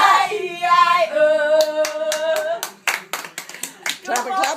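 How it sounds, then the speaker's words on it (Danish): Several sharp hand claps ring out in quick succession after a stretch of sung children's nursery rhyme, the claps loud and close, interleaved with voices. "Klap."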